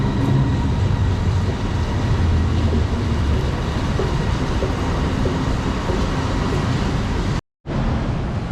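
A metro train arriving at a station in Thailand rumbles steadily through the whole stretch, a dense roar of wheels and motor close by, with a brief moment of silence near the end.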